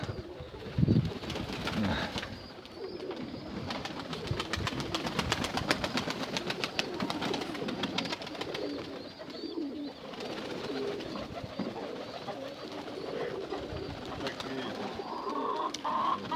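Pigeons coo repeatedly nearby over a steady background hum, low throaty calls rising and falling throughout.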